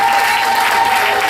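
Steady applause from a church congregation acclaiming God during an evangelistic service, dense and continuous clapping filling the room, with a sustained tone running underneath.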